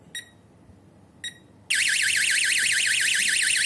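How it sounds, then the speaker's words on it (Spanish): A DSC security alarm panel gives two short beeps, then its siren kicks in with a loud, piercing wailing tone that warbles rapidly and continues without pause. "alarma, sonador"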